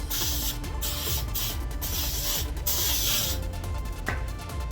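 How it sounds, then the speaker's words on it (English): Spray adhesive hisses from an aerosol can onto a stencil in several short bursts separated by brief pauses, close and fairly loud over a steady background hum. "this is the first time I used this spray adhesive"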